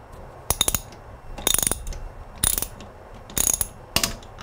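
Ratchet tightening a toilet seat bolt, heard as five close, short bursts of rapid clicking separated by brief pauses, no talk.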